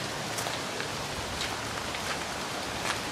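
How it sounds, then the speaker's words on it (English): Steady rain falling outdoors on a windy Halloween night, a soft, even hiss of drops on surfaces with a few slightly louder patters, continuous and moderately quiet with no voices. "it's raining and windy out"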